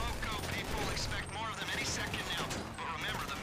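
Rapid automatic gunfire in GTA V during a prison break heist mission, a dense crackling barrage of shots that runs continuously beneath excited voices talking over it.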